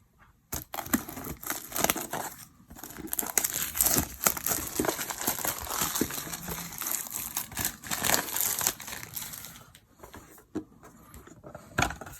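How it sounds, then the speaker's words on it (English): Plastic shrink-wrap crinkles and crumples steadily while a boxed 1983 Learning Company floppy-disk computer game, Bumble Games, is unwrapped by hand, close and fairly loud with brief pauses. "So let's unwrap this and we'll see what we got on the inside."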